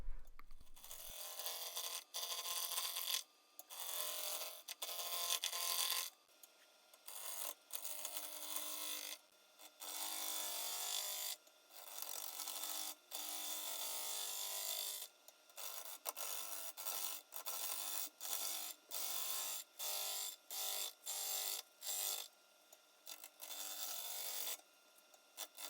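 A wood lathe turns a small butternut bowl blank while a tool cuts into it, giving a bright, scraping hiss that comes in repeated bursts with short pauses between passes.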